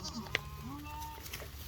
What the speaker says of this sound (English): let me get in there and let the goats out